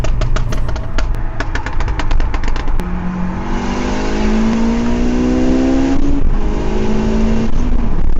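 A 500bhp sleeper Honda Civic FN2 racing a stage 2 BMW M140i, engine roaring loud and close as it accelerates hard, revs climbing steadily through gears with a brief shift break, no talking.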